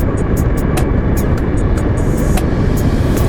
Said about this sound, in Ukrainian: Переключаємося на другу, даємо газу.